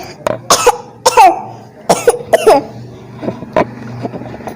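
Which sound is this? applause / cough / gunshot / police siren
cough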